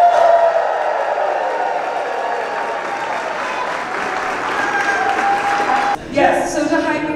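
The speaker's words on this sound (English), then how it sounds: "stand up and give her a huge round of applause" An audience at an RV entrepreneur summit stands and claps, producing dense, sustained applause throughout, briefly dipping near the end before swelling again.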